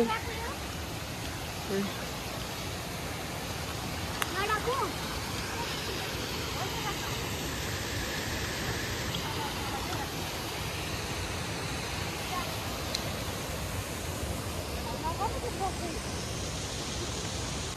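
A river stream at Sundukko flows in a steady, broadband rush of water that fills the whole scene evenly from start to finish, with faint voices now and then in the background.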